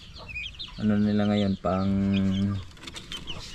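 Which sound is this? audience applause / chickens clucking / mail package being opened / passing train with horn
chickens clucking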